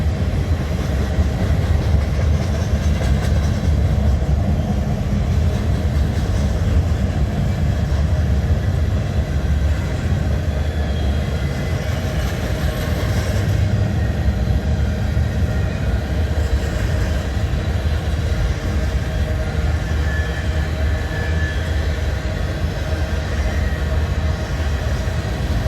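A Loram rail grinder maintenance train, led by locomotive 5213, rolls past on the tracks, making a loud, continuous roar with steady grinding and rumbling that holds for the whole stretch.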